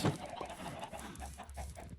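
Chickens cluck softly and continuously on a farm in a video game, a low, steady chatter of fowl with no voices.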